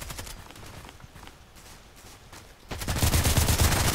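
Gunfire in the Contract Wars online shooter, faint scattered shots and footsteps that give way to a loud, rapid automatic burst near the end, with no talk.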